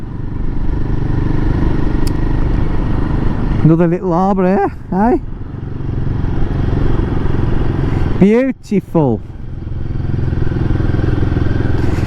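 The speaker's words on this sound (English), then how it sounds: "It doesn't like slow revs, this bike of mine." A Royal Enfield Guerrilla 450 motorcycle riding along at low revs, a steady engine drone with wind rumble close to the rider, who talks over it at intervals.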